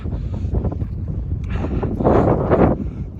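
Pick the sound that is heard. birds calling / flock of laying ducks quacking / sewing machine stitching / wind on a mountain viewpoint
wind on a mountain viewpoint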